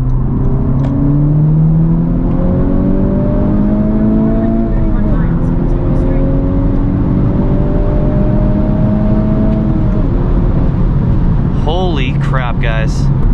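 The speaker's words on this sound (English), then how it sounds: "I'll start with a third gear pull." A 2021 Honda Civic Type R accelerates hard in third gear at wide-open throttle on a flat highway stretch, its engine note rising loud and steady, then easing off near the end, heard from inside the cabin.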